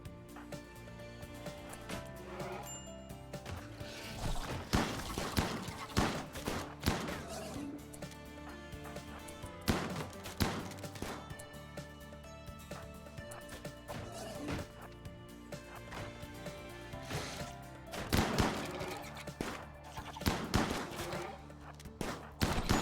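Shotguns fire in the video game RimWorld: repeated quiet, sharp blasts and thuds scattered through a firefight, with some shots bunched together over a low, steady game backdrop.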